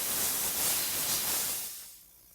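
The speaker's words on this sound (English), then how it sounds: "And then finally, the steam cleaner." A jewellery steam cleaner hisses in a steady close burst of spraying steam that cuts off and fades toward the end.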